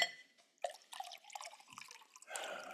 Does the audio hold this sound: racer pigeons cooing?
no